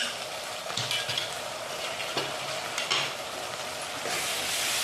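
Pasta momo filling mixed with Schezwan chutney sizzles in a hot pan while a utensil stirs it, a continuous frying hiss broken by several louder scraping swishes, close and without talk.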